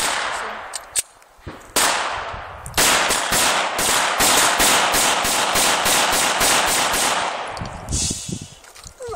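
A Glock 23C pistol firing .40 S&W rounds, a few spaced single shots followed by a long rapid string of loud, sharp cracks at close range, then tapering off.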